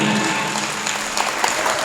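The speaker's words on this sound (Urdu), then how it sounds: "سب لوگ تالیاں بجا کے میرا موڈ بنائیے گا۔" Audience at an Urdu mushaira poetry gathering celebrating the Chandrayaan-3 success claps steadily, a dense continuous wash of applause from a large crowd throughout.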